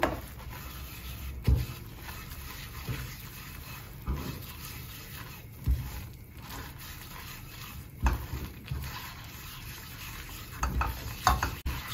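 A spoon stirs curry powder into udon sauce in a pan, producing quiet scraping and rubbing over a faint sizzle, with occasional louder knocks against the pan.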